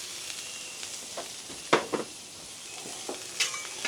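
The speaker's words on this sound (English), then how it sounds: "the first thing going down is going to be our onions" Onions hit a griddle in rendered bacon fat and sizzle with a soft, steady hiss, punctuated by a few sharp spatula scrapes and taps against the metal surface.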